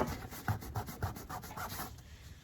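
A white wall tire coated in Flex Seal is rubbed in a quick run of about six close, rhythmic scuffing strokes, loud and alone with no talk.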